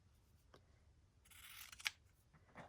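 Scissors trimming a scrap of paper, a few quiet snips with one sharper cut standing out, close by and faint, with no talk.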